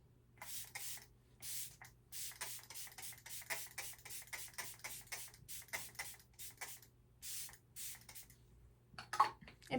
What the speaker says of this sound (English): I'm gonna use the ColourPop Pretty Fresh Peptides and Niacinamide Lock It In Spray instead of my Charlotte Tilbury